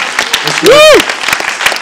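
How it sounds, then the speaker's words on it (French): An audience applauds at a film team's presentation, brief scattered clapping with a short whistle-like tone rising and falling in the middle. "Vous pouvez l'applaudir."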